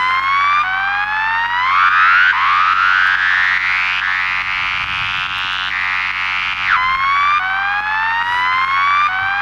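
A synth patch with LFO modulation mimics a police siren, rising whooping sweeps repeating in a steady cycle, one sharp drop partway through, loud and alone.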